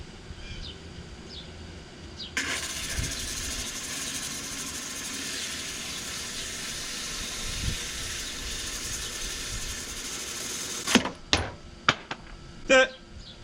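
A diamond lapping wheel grinds glass with a steady broadband hiss from about 2 to 11 seconds, then a few sharp knocks and brief bursts follow near the end.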